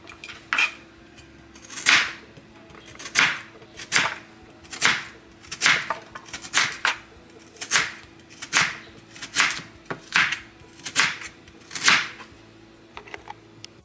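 A ridged kitchen knife slices a peeled carrot into rounds on a cutting board, giving about a dozen crisp, evenly spaced chops close by, with no talking.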